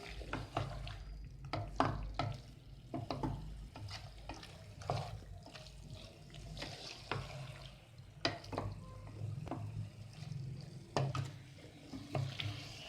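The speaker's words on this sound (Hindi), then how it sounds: "अब हम इसे 2 से 3 मिनट के लिए इसे भूनेंगे।" Diced potatoes and carrots stir-fried in a pan with spices, a low steady sizzle broken by repeated scraping and tapping of a spatula against the pan, close and even in rhythm.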